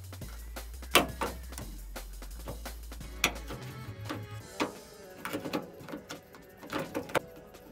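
The lock assembly is worked loose and wiggled out of a Mk2 Ford Fiesta door. Faint scattered metallic clicks, knocks and scrapes come up close, in irregular bursts with quiet gaps between them, and no one talks.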